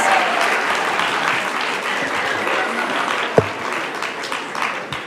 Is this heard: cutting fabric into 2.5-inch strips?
no